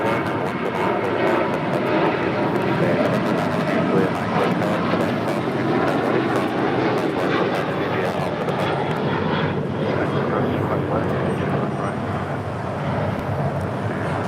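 An Alaska Airlines Boeing 737-800 taking off at LAX, its jet engines making a sustained broad roar that holds steady and loud throughout, with some voices in the background.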